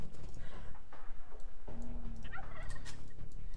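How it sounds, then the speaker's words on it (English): Turkeys gobbling in the Age of Empires 2 strategy game, several warbling gobbles repeating over a steady bed of game ambience, fairly close and clear with no talk. "oh, we got turkeys, how nice."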